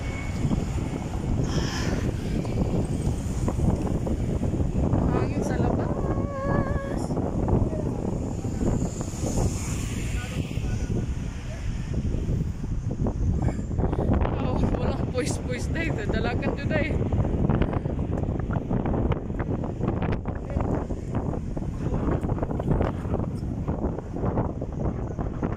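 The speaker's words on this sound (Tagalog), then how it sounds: "Grabe lakas ang hangin." Steady, loud wind buffeting the microphone throughout, with a rumbling engine underneath and occasional speech.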